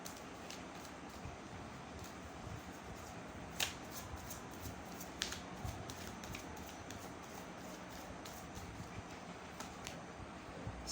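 Oracle cards are shuffled and laid out, giving soft, faint card flicks and a few light snaps over a constant hiss of background noise.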